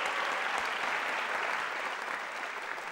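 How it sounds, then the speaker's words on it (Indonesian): A stand-up comedy audience applauds a comedian with a steady wash of dense clapping, even in level and lasting the whole stretch without talk. "tepuk tangan sekali lagi untuk Mas Wisben"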